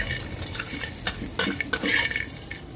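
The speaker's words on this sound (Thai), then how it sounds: "แล้วก็คลุกเคล้าให้เข้ากันดีค่ะ" Salt-fried okra stirred and tossed in a pan, with soft sizzling under scraping and clinking utensil strokes that come in irregular bursts, close and moderately quiet.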